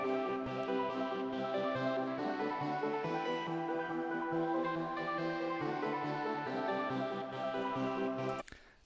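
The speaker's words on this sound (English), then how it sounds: "I took this melody and I layered it with another sound from Electra X, the Wisdom Arp from the Martians Electra X Bank" A layered synth melody for a beat, stacking a lead with the Wisdom Arp preset from the Martians bank for Electra X, playing steady sustained notes with a shimmering arpeggiated texture, clear and alone before cutting off at the end.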